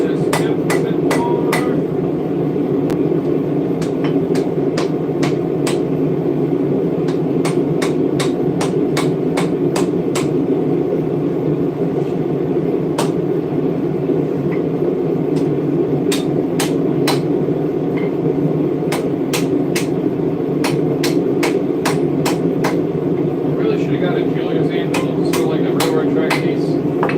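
A hot steel tip is hammered on an anvil in a forge, giving many sharp metallic strikes in irregular bursts and runs over a constant low background drone.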